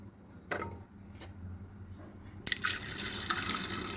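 Water pours from a tap into a pot of overnight-soaked, rinsed chickpeas set to boil, a faint trickle at first, then a steady, close splashing fill that keeps running to the end.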